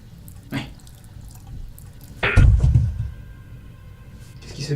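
A dripping water tap in a sink gives a few separate close drips and splashes, one heavier splash in the middle among sparse quieter drops, with no talk.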